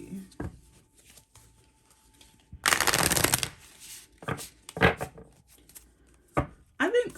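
Tarot cards shuffled by hand in a brief dense riffle burst, with a few lighter card taps before and after amid quiet talk.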